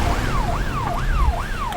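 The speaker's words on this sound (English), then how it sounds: "There's an ambulance on way" An ambulance siren wails in a steady rising and falling cycle, repeating about four times, loud and close over low rumbling traffic.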